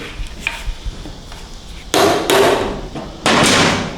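A case splitter tool is hammered into a seam on a 68RFE transmission during a teardown: two loud, close metallic whacks about a second and a half apart, with quieter shop noise before them.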